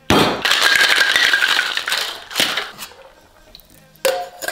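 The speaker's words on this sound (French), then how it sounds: "Maintenant glaçons dans le shaker." Ice cubes shaken hard in a cocktail shaker: a loud, dense rattle for about two seconds, then fading clinks and a final short burst of shaking, close up.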